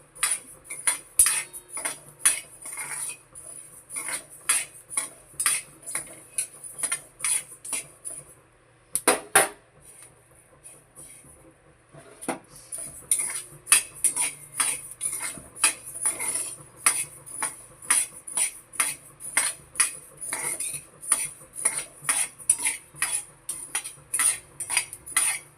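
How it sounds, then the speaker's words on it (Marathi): Coriander seeds dry-roast in a pan while goda masala is being made, giving off steady, rhythmic clicks and scraping taps close by. The sound pauses briefly about a third of the way through, then carries on at the same pace. "धण्याचा छान वास येतोय आणि आवाज येतोय फटफट फटफट असा"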